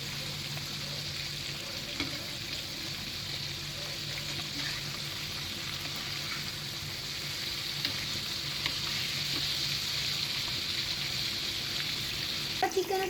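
Chicken pieces for a crispy chicken burger deep-frying in hot oil, a steady dense sizzle with bubbling that holds for the whole stretch and grows a little louder near the end, with faint clinks.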